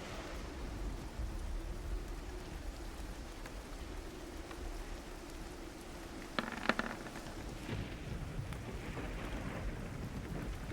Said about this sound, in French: L'orage bat son plein.